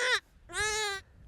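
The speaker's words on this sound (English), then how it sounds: "these are 2 little Cheviot lambs" Two small Cheviot lambs on an Ozarks farm bleat twice up close, a short clear cry followed by a longer, steadier wavering bleat, with quiet gaps around them.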